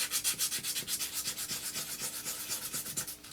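Aluminum foil is scrubbed back and forth against a rusty steel chassis, making a steady, rhythmic abrasive rasp with about a dozen quick strokes, loud and close with no voices.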